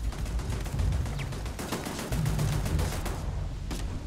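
Automated turrets firing in the space game Starfield: a continuous stream of rapid shots and impacts at moderate volume, with dense repeated cracks and a few heavier thuds mixed in.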